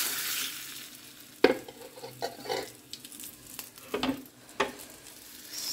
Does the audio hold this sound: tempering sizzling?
yes